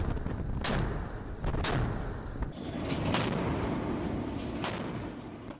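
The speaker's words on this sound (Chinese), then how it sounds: "其他各舰多型主炮相继开火，对目标阵地进行精准打击" Heavy naval main guns on several warships fire in turn during a live-fire exercise against a target position, giving about five loud booming blasts spread across the stretch over a constant roar of wind and engine.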